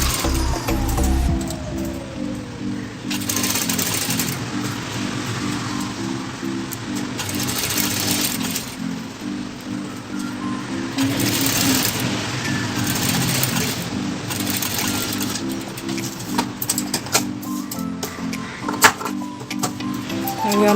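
A sewing machine stitches folded blouse fabric with a continuous fast rhythmic whir that pauses and restarts several times, steady and close, at moderate volume with no talk over it.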